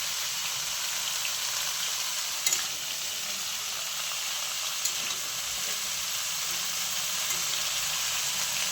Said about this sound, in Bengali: ভালো করে এটাকে কষি নেব আমি